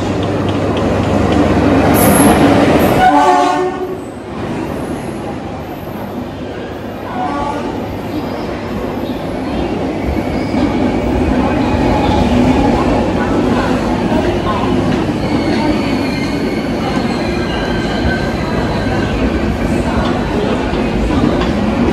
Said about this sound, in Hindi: सी ट्रेन आ गई है, अराइवल देख लेते हैं।